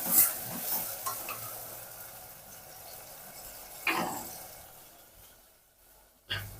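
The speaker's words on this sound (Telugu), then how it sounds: "చూడండి, వంకాయలు అలాగే టమోటా చక్కగా మగ్గాలి." Eggplants and tomato simmer and sizzle in a pan while being stirred, a soft steady frying hiss with a few scraping stir strokes, fairly close and quiet, no talking.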